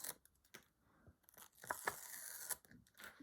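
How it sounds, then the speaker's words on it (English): Backing being quickly peeled off foam tape on a 6x4 mat for a handmade Christmas card, giving several brief tearing and crackling rips at close range with faint rustles between them. "I've got foam tape on the back, and I'm going to very quickly peel that off"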